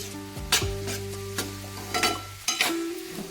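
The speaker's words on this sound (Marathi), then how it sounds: "हा कांदा आपला चांगला शिजवून घेणार आहोत" Onion frying in a pan for prawn masala, a steady sizzle broken by several loud, close scrapes and knocks of a spoon stirring, with no talking.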